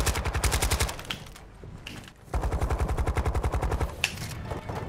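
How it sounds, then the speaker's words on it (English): Rapid automatic gunfire in the Call of Duty DMZ shooter, several sustained bursts of fast, evenly spaced shots with a short pause between them, loud and close. "You are taking effective fire"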